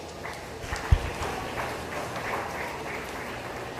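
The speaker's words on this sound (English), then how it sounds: "Give those exhibitors a round of applause." Faint, distant applause from spectators at a market and breeding beef cattle show, a soft scattered patter under the arena's background murmur, with one sharp knock near the start.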